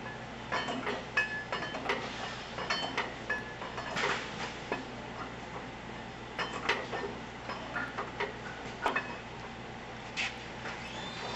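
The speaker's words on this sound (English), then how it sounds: "Now we use the spanner just to bring them up." A spanner tightens nuts in a series of irregular metallic clicks and ratcheting taps, quiet and close, with short pauses between turns and no talk.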